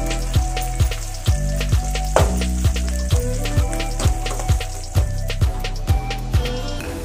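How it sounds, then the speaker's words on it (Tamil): Crushed garlic sizzling and frying in hot oil in a pan, with a steady crackling sizzle and regular stirring or scraping knocks every half second or so, loud and close. "நசுக்கி வச்ச பூண்டு சேர்த்திக்கலாம்."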